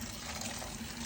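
Boiling water poured from close by onto blackberries in a bucket makes a brief, steady, gushing splash of liquid filling a container, with no speech.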